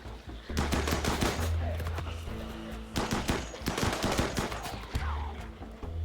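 Rapid bursts of gunfire from colonist shooters in RimWorld, close and loud, with clustered automatic volleys and separate shots coming in waves across the clip.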